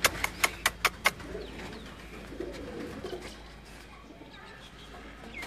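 A tiger breed pigeon coos softly at close range, preceded by a quick series of sharp taps.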